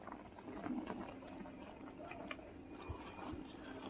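A cooking pot of aviyal simmers and bubbles softly, with a low, close, continuous boiling burble and a few faint clinks in the background.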